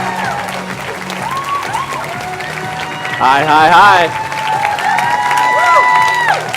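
An evening audience at the Heart of Gold event applauds a speaker, clapping and cheering under a man's brief greeting, with the crowd noise swelling loudly midway before settling.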